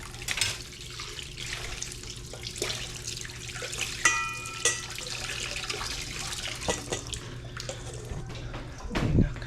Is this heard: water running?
yes